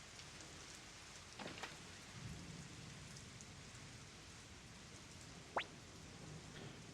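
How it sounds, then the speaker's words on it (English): Steady rain falls in the remastered Suikoden I, the PS1 RPG, a dense even hiss with a few faint drips and one brief sharp chirp near the end, no one speaking. "The rain still hasn't let up."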